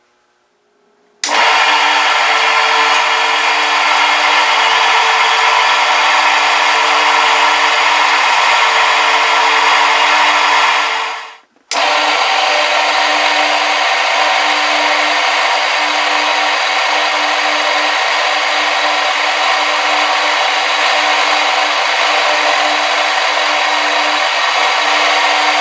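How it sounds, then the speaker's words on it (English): A power tool, likely a drill, reams a 1/8 inch hole for dowel pins in a steel welding jig, droning loud and steady for about ten seconds, cutting out briefly, then running on evenly with no talking. "We're going to ream it 1/8 of an inch"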